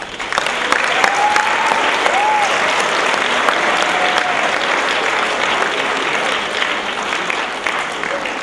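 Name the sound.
audience applause welcoming a dance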